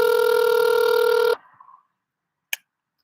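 A telephone rings loudly and steadily for over a second, then cuts off, leaving a brief faint tail and one short sharp click a moment later.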